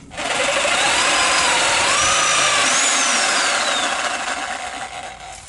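A Sawzall reciprocating saw cuts out a window from a small sunroom, buzzing loud and close in one continuous burst that fades slightly toward the end.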